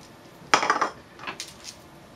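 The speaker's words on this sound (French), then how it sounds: "Vous mélangez délicatement les 3 ingrédients avec votre spatule" A spatula mixing flour, baking powder and cinnamon in a bowl for an apple cake, a few short clinks and scrapes against the bowl in two brief bursts.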